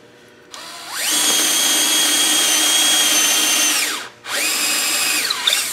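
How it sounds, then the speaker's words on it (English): A drill press whines up to speed and runs steadily at high pitch, then briefly cuts out and spins up again, loud and close. "my very precise drill press there"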